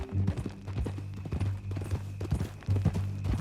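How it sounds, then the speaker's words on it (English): Horse hooves clip-clopping in the video game Red Dead Redemption 2, a steady rhythmic clatter of steps at walking pace, close and clear with a few louder strikes. "That new horse?"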